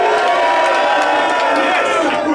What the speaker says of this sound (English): Everyone here in the crowd, make some noise.